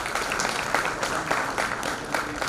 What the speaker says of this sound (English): Please give a huge round of applause for this.